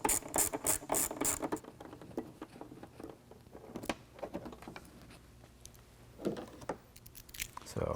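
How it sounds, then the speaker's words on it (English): Ratchet removing bolts from a C-pillar panel inside a 2022 Ford Bronco, with a burst of rapid, close clicking at the start, then scattered quieter clicks and handling noises. "we're going to remove these three bolts out of this C-pillar panel"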